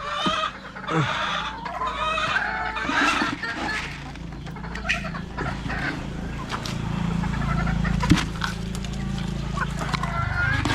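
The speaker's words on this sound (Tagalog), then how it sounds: "ito yung inahin. Ito yung nanay ng mga itim na manok natin." Black hens clucking nearby in a busy farmyard, with repeated short calls over a steady background of other fowl and movement.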